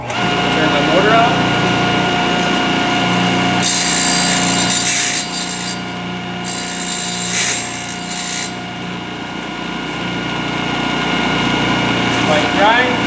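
A Thorvie AV-40 sharpening machine motor runs with a steady hum, with louder grinding bursts in the middle as a blade edge is ground, and a voice talks over it.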